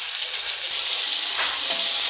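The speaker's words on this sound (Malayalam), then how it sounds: "അരിഞ്ഞത് പാവയ്ക്കായും വെണ്ടയ്ക്കായും ഉള്ളിയും കൂടെ അതിനകത്ത് ഇട്ട് കൊടുക്കും." Chopped bitter gourd, okra and onion frying together in a pan, giving a continuous close sizzle with a few soft stirring scrapes and knocks toward the end.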